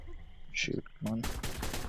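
Gunshots in the ARK survival video game fire in a quick burst near the end, a dense run of sharp cracks after a few scattered sounds.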